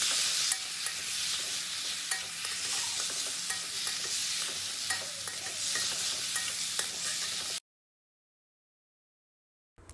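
Turmeric and spice paste fry in oil over low heat for a fish curry, giving a steady close sizzle with scattered crackles and stirring scrapes, then cutting off abruptly to near silence.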